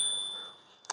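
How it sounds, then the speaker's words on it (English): Bell on a Caroma E68 Pro electric scooter: a single bright ding that rings out and fades, followed by a faint click, close by with no talk. "Got a bell here."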